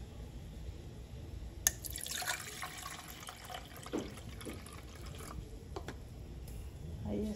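A cup of water is poured into a jar of homemade pickled chiles in vinegar, giving a faint, steady trickle with soft drips and splashes; no one speaks.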